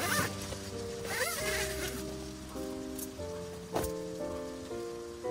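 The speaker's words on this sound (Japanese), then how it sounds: "このファスナーを" A zipper on a Timber Ridge folding camp cot runs in a few quick close pulls, with light rustling and clinking of the cot fabric and frame in between.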